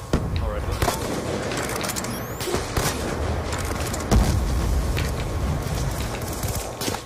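Rapid shotgun blasts and other gunfire crack through a video game firefight in a kill race match. The bursts are loud, dense and overlapping, and a player talks over them.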